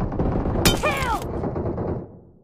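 Gunfire in a shooter video game: a loud close burst of shots with a sharp whine, over a dense background of game noise that fades out afterward.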